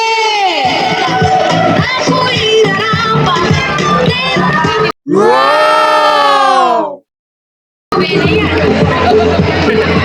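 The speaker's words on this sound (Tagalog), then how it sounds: "Palakpak naman po, Purong 7." A crowd at a barangay muse pageant in Plaridel, Quezon, roars with loud cheering and shouting, cutting out briefly and returning, with voices blending into the din.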